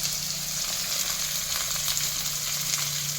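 Chopped onions with salt fry in hot oil in a pan, giving a steady close crackling sizzle that holds evenly throughout with no talk over it.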